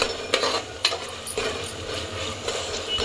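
A handful of mint fries on a low flame with a soft, continuous sizzle, and a spoon clacks and scrapes against the pan every second or so, close by and with no one speaking.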